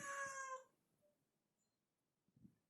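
A house cat lets out one plaintive, drawn-out meow up close, followed by quiet and a couple of faint soft knocks near the end.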